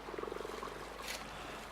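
Frogs croak faintly at a garden pond during spawning, a soft, quick run of pulsed calls heard at a distance that fades into a quiet background hiss.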